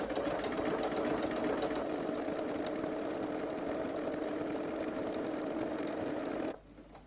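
A sewing machine stitches fabric for a shoe bag in a steady, close mechanical whir that holds constant for over six seconds and then cuts off abruptly, leaving near silence.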